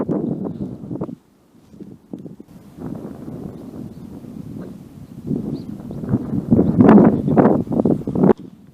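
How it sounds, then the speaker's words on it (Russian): Strong, cold wind buffeting a microphone outdoors on a cycling trip near Tokyo, low rumbling gusts that drop briefly, then build into louder surging blasts toward the end. "ветер сильный."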